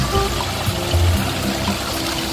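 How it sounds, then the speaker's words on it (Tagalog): Babbling water from an artificial stream in a park, a close, continuous trickle and splash with small gurgling bursts and no voices. "paglagaslas ng tubig."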